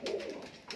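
Murshidabadi Giribaz pigeons give a short, soft coo close by, one low throaty call with a second beginning at the end.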